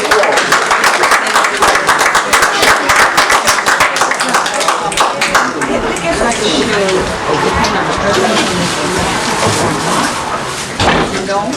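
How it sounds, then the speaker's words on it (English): An audience at the Kosmon Temple in Brooklyn welcomes a speaker with loud applause. Crisp individual claps open the burst, which then thins into scattered clapping and murmuring crowd chatter. "Give him a round of applause."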